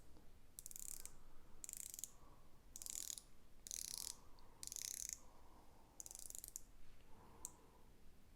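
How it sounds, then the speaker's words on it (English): A stainless steel Accurist dive watch has its 90-click bezel turned in short bursts of fine, rapid ratcheting clicks. The bursts come close to the ear, separated by brief pauses, with no talk. "it is a 90 click bezel. A bit unfortunate, but I'll let you have a quick listen."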